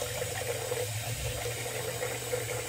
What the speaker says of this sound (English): A little water in the basin